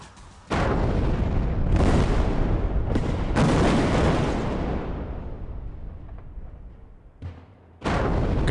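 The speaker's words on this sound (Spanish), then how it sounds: "Cada explosión genera una propagación de ondas parecida a la de un sismo." Several heavy rock-blasting explosions at a bridge construction site boom one after another, each a sharp broad burst trailing off into a long rumbling decay, loud and close.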